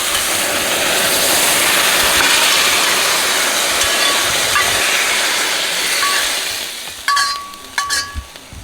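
Bok choy stir-fried over high heat, a loud steady hiss and sizzle filling most of the clip, fading toward the end where a few sharp metallic clinks of the pan ring out.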